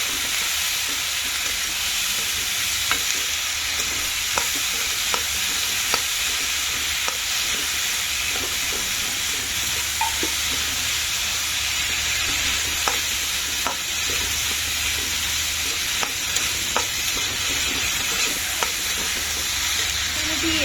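Food sizzles steadily in a frying pan while being stirred, with repeated scraping clicks of the utensil against the pan over a continuous close hiss; no one speaks.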